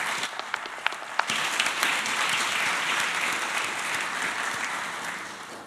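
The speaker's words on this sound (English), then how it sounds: "a round of good applause for their good work." A conference audience at a high-level international dialogue breaks into applause, a few sharp claps first, then a sustained, fairly loud round of clapping that gradually eases.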